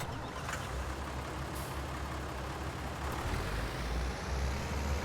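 A tractor engine in Farming Simulator 19 runs steadily throughout, a continuous low rumbling drone with constant loudness and no speech.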